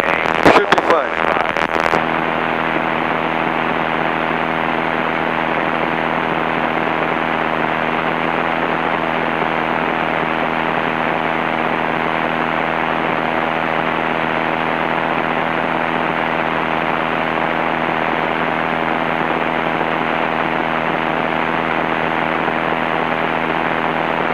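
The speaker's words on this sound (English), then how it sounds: "the engine sounds good, so we should be all right" A light aircraft's propeller engine drones steadily and loudly throughout in flight over Florida, a constant buzzing hum with speech faintly beneath it.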